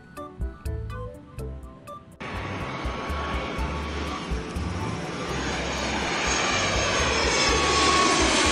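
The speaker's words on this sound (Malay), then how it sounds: "Ini pesawat." An airplane engine roars loud and steady after a sudden start, building slightly in intensity and running continuously with no voices.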